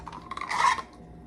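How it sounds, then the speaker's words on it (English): Sour cream for a potato salad dressing whisked briskly in a bowl, giving about a second of close scraping, rasping strokes that swell to a peak and then trail off, with no talking. "Let's whisk this together."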